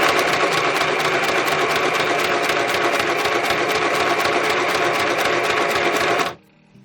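A sewing machine stitches a pocket for a junk journal, running in a steady fast rhythmic whir for about six seconds before stopping abruptly.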